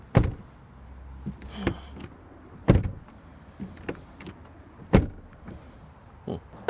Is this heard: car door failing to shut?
yes